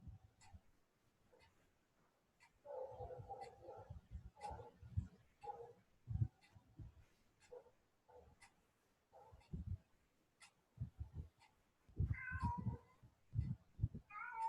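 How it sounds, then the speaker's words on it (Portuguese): A house cat meows several times at a moderate distance, in short, fairly quiet calls separated by pauses, with faint clicks and small knocks in a quiet room. "Tô ouvindo um gatinho aí."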